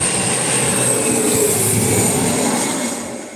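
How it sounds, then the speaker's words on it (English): A private plane passes overhead outdoors, its steady broadband engine roar holding loud and even for about three seconds before beginning to fade as it moves away. "private planes keep flying over."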